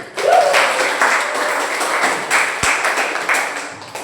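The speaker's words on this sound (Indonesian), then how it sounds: "Kita beri aplaus dulu." Audience applause in a classroom presentation session, steady clapping from a group sustained for about four seconds at moderate loudness.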